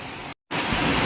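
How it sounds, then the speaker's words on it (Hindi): Strong wind blowing hard outdoors during a sudden weather change, a loud broadband roar buffeting the microphone, briefly cutting out before returning even stronger. "बहुत तेज हवा चल रही है"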